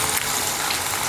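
Chopped vegetables hiss and sizzle as they hit a hot mustard-seed and cumin tempering, a steady bright crackle lasting about a second with no voices.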